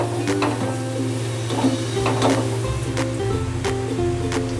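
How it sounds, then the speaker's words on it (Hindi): Chopped ginger and garlic fry in a pan for a Chikar Cholay dish, giving a steady, close sizzle with occasional stirring scrapes, heard alone without talk. "अदरक लहसुन डालने के बाद एक मिनट के लिए मैं इसको फ्राई करूंगी।"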